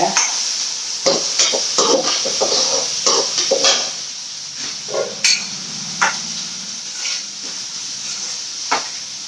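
Onion, tomato and garlic are sautéed in a pan while a spatula stirs and taps repeatedly against the metal, with a low sizzle running beneath the uneven scraping strokes.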